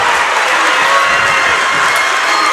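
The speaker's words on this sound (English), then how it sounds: "The crowd on its feet." A high school varsity boys' basketball crowd in South Paris, Maine, on its feet and cheering, with dense, loud, sustained applause and shouting filling the gym.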